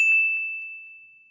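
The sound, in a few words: notification bell ding sound effect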